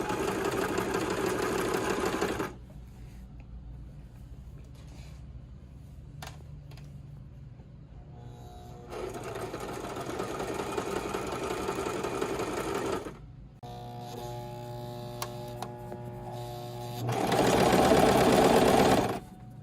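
A sewing machine stitches the hem of a jean jumpsuit in loud, fast humming runs, alternating with quieter pauses and a steadier, slower stretch of stitching.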